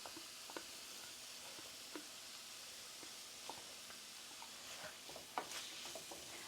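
Spice paste frying in hot oil in a pan makes a steady soft hiss and sizzle, with scattered small pops and crackles throughout, and no talking.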